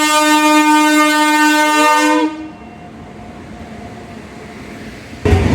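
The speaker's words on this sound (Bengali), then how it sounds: "এই দেখো ট্রেন আসছে" A train arriving at Tamna railway station in Purulia sounds a loud, sustained horn for about two seconds, which cuts off into a low rolling rumble, with a sharp louder burst near the end.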